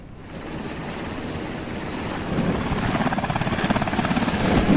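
A US military helicopter lifts off as troops board during a blockade operation near the Strait of Hormuz, its rotor thumping in a steady, quickening pulse that grows louder and closer over a constant engine roar.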